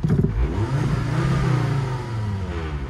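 Revving 2001 Volvo turbo AWD wagon engine, the pitch rising and falling through a loud close burst with no voices.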